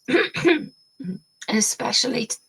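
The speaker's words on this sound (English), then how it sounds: "let me clear my throat" A person clears their throat in a few rough, raspy bursts, close and fairly loud, with short pauses between them.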